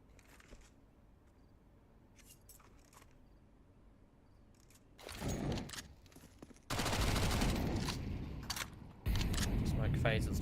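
Pistol fire crackles in a Counter-Strike play-off match near the Banana choke point, with a short volley and then two longer, loud sustained bursts after a quiet stretch of game ambience.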